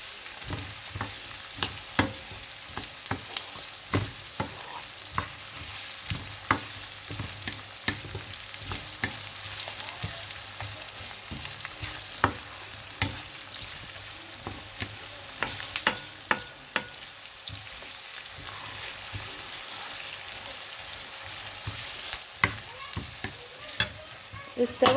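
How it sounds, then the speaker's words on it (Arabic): Onions and spices frying in a pan for stuffed vegetables, a soft steady sizzle with frequent light clicks and scrapes from stirring, fairly quiet and continuous, no talking. "يدبل البصل احط له التوابل، احط له عصير الطماطم او الصلصه"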